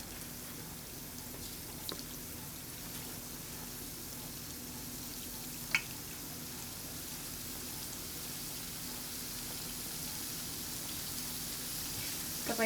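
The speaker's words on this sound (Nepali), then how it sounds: "यो फुलेको डोलाई बिस्तारै तातेको तेलमा राख्दै जान्छु।" Risen donut dough lowered a piece at a time into hot oil in a kadai gives a soft, steady sizzle and crackle, faint and continuous with an occasional small pop.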